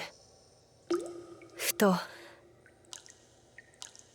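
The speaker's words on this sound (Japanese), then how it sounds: "ポタ、ポタと水音が聞こえた。" Water drips at night in an old house deep in the mountains: a few distinct, wet plinking drops spaced irregularly and fairly close, with a brief spoken word and faint later taps.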